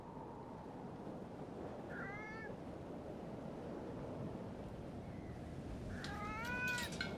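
A cat in the Foolish Mortals adventure game meows twice, one short cry near the start and a louder one at the end, over a constant wash of ocean surf and wind.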